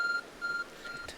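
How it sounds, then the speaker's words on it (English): A glowing, phone-like object in the video game Pokémon Legends: Arceus gives off steady electronic beeps, tones repeating in a regular on-off pattern over a soft game background. "A glowing, beeping object"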